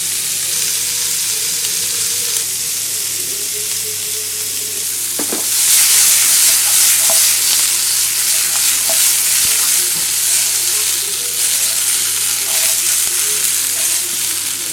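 Food in a pan fries with a constant loud sizzle close by, and the hiss swells midway while a utensil stirs and scrapes now and then, with no talking.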